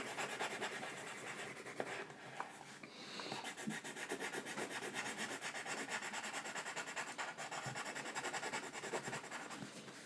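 A pencil shades on paper with soft, rapid back-and-forth rubbing strokes, close and quiet, laying dark tone under a cartoon fish's mouth and neck in steady rhythmic bursts.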